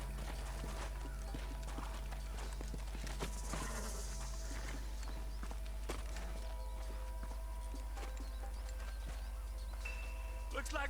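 Horse hooves clip-clop at a walk in the Western video game Red Dead Redemption, a steady, moderately close rhythm under ambient game sounds and no talk.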